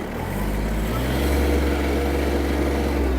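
A Kubota B-72 mini tractor engine runs in reverse gear at a steady, close rumble, with a low chugging hum and no voices.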